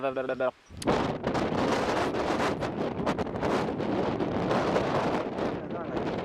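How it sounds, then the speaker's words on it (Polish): Strong wind buffets a microphone on the GR20 mountain trail in Corsica, a loud continuous roar with gusty swells, after a brief moment of a voice at the start. "Chciałem pokazać jak wieje mocno"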